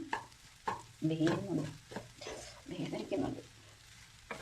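Tomato rice is stirred in a pan over a low flame, with soft scraping and stirring strokes heard close by beneath a quiet voice.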